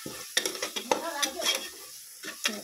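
Chilli powder and turmeric stirred in a frying pan: steady clinks and scrapes of a spoon against metal over a soft sizzle, close and moderately loud, with a short pause before more stirring.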